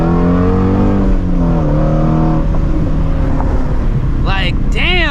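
Ford Shelby GT350 on the stock exhaust system, revving loudly with rising and falling engine pitch, then sharper climbing revs near the end, while someone talks over it.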